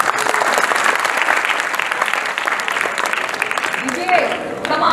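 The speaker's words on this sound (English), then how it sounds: "Clap for them, yes, come on." Audience applause at a university foundation course lecture, a dense sustained clapping crowd filling the whole stretch at steady loudness, with voices calling out over it.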